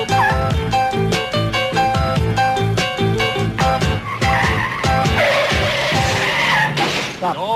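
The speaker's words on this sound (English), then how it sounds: "Stop the car, Leon." A car's tires squeal loudly in a series of sharp, pitched screeches as it skids to a stop, the squeals stuttering and overlapping over several seconds with some engine noise underneath.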